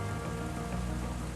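Heavy rain during northern England's record-wet December of 2015, a dense, steady patter on surfaces that is continuous and fairly soft, with no voices.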